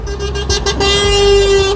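A passing truck sounds its horn in a few short toots and then one longer sustained blast, loud and close over road traffic noise.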